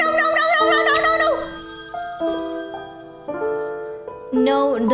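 A phone ringtone plays a melodic electronic tune of sustained tones that shift in pitch, loud and close, filling the whole stretch with a brief pause before the melody picks back up.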